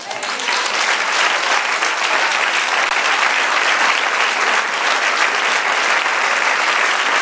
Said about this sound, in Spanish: Ya nuestro aplauso.